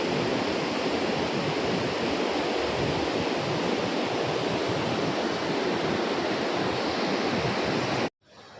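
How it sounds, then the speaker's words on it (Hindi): Two rivers, the Alaknanda and the Nandakini, meeting at a Himalayan confluence produce a loud, steady, broadband roar of rushing water that holds unbroken and close before cutting off abruptly at the end. "ये दोनों नदियाँ आ रही हैं, इधर से अलकनंदा और उधर से नंदकिनी।"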